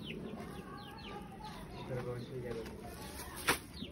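Chicks cluck and peep in short, repeated calls close by at a moderate level, with a person talking over them.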